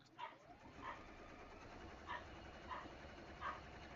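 A dog barks several times at irregular intervals, muffled and somewhat distant, over a low background hum.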